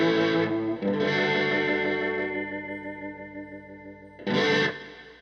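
An electric guitar runs through a Westminster Effects Chrysostom chorus pedal, ringing out a sustained chord with a shimmering, wavering chorus tone that fades gradually before a fresh strum cuts in near the end.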